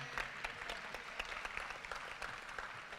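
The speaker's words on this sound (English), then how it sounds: "Can we just give a hand of applause for everybody?" Gala audience applause in a large hall, many people clapping in a steady, even wash heard at a moderate distance, fairly soft overall with no voices over it.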